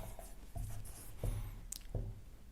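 Chalk or marker strokes on a classroom board during a math lesson, several short scratchy bursts in an uneven rhythm, close and fairly quiet, with no talking.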